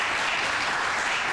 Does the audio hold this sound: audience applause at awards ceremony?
yes